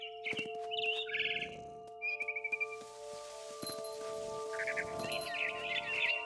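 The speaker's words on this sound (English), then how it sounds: "Then I heard chirping outside my window. It was a barn swallow going back to her nest." A barn swallow chirps in the video game What Remains of Edith Finch, giving quick, faint bursts of high twittering calls with short gaps between them over a quiet tonal hum.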